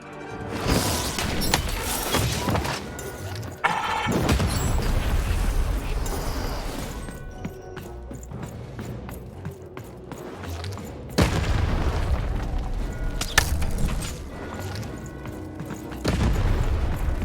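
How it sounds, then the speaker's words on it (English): Cannon fire in the video game Lost in Random: heavy booming blasts land at three separate moments, each followed by a rumbling explosion, over continuous dense game music and ambience. "Shoot the button to fire the cannon."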